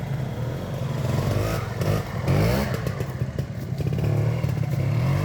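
A classic trial motorcycle idles and revs close by at a trial event, its engine throbbing steadily with small rises in revs and some mechanical clatter, without voices.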